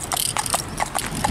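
A tame bay horse being ridden clip-clops on a hard surface, a quick steady rhythm of close, crisp hoofbeats.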